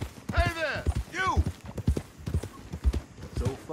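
Horse hooves clip-clop in a steady rhythm in the Red Dead Redemption 2 game world, moderately close, while a voice talks over much of the riding.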